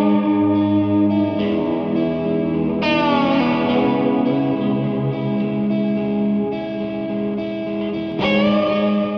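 Electric guitar chords through a Hall of Fame 2 X4 reverb pedal, drenched in lush reverb and shimmering effects, notes ringing and swelling continuously, with a fresh strummed chord around three seconds and another near the end.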